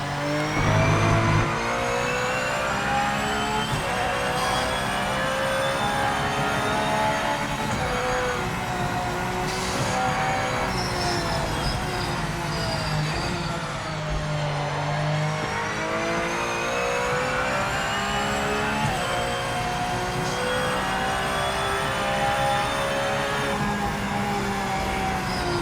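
Race car engine in the Project Motor Racing sim game, revving loudly and steadily with rising and falling pitch through gear changes, a continuous close engine drone with no talk.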